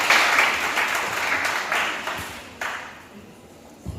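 A church congregation applauds to acclaim the Lord, a steady wash of many hands clapping together at close-to-mid distance, fading somewhat toward the end with a few louder claps near the close.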